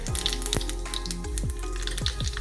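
A tadka of cumin and salt sizzles in hot oil for oats and moong dal idli, a steady close crackling fry with sharp pops and spatters throughout, no talk.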